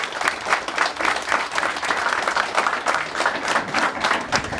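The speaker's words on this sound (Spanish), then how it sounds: "pido un fuerte aplauso para esta querida y tan amada colectividad boliviana Escobar" At an anniversary celebration of the Bolivian community of Escobar, a crowd applauds with loud, close clapping that pulses in a loose rhythm of individual claps and stays lively throughout.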